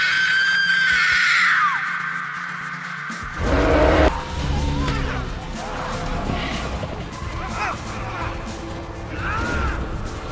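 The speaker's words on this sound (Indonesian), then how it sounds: "berteriak sekencang-kencangnya." A woman screams loudly and shrilly in a jungle film scene from King Kong (2005), a sustained high cry that cuts off into a heavy crash and tumbling impacts, followed by rustling commotion and smaller thuds.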